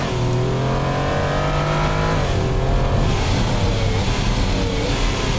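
A V16 hypercar engine in the Automation racing game revs hard and continuously, loud and close, its pitch climbing through the gears with brief shift drops and a faint hint of tire squeal, no voices.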